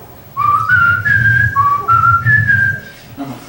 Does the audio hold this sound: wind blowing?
no